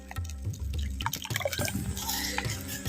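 Water poured into a spiced masala in a clay pot while cooking outdoors in a village kitchen gives close, steady splashing and dripping, with irregular liquid drops running through the whole stretch and no voices.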